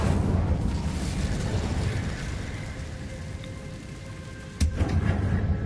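A fire spell cast in a Hogwarts video game: a sustained roaring rush that dips slightly, then a sudden loud burst near the end, heard alone.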